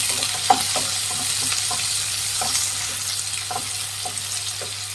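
Onions and green chillies are stirred and fried in a pan for avarekalu uppittu, a loud, close, continuous sizzle broken by repeated scraping strokes of the spoon, with no talking.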